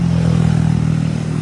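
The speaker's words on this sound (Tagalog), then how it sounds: "Ang daming motor, daming jeep." Motorcycles and jeeps in dense Makati city traffic: a loud, steady engine drone with a low rhythmic idle-like throb carries throughout, close by and continuous.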